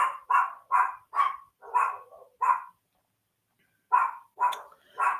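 Dogs barking outdoors as they are walked nearby, a run of sharp barks in quick series, a pause of about a second, then several more barks, fairly clear and not far off.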